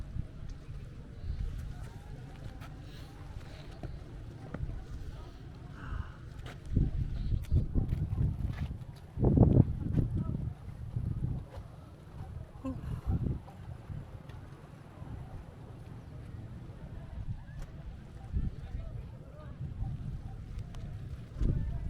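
Steady outdoor wind rumbles against the microphone in Guimbal, Iloilo, Philippines, gusting louder around the middle, with faint voices and water sounds in the background.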